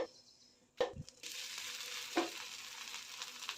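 Sprouted moong dal dosa batter sizzles on a hot pan after a couple of soft knocks, then a steady, fairly quiet frying hiss continues to the end.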